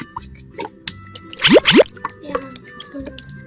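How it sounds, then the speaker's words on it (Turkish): Shampoo poured while washing a Barbie doll's hair, a couple of quick wet squirts and plops close by, with soft liquid drips and handling noises around them. "Şampuanımızı da böyle döküyoruz."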